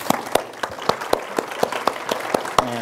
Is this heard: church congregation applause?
yes